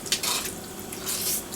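A spoon stirs thick creamed corn chowder in a pot, producing faint, soft scraping and clinking against the metal in a couple of short bursts, quiet and close, with no voices.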